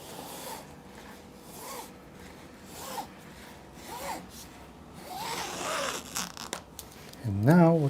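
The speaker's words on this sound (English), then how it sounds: "And now I'll cut it in 2 goes" A blade draws through slipcase material in repeated rasping strokes, short scraping bursts that build toward a louder stretch near the end, close to the microphone with speech underneath.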